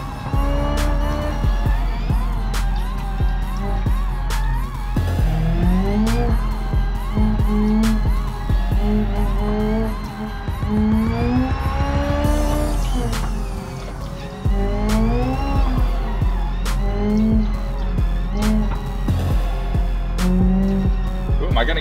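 A custom car running 40 psi of turbo boost, its motor close to blowing, races through a BeamNG.drive cop chase, the engine droning loud and steady with tires squealing in bursts, while someone talks over it.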